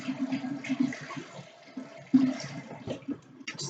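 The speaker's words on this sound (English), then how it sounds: "let me wash my hands off real quick." Running water from a kitchen tap splashes over hands being washed, a steady close gurgle with brief louder bursts, with no talking.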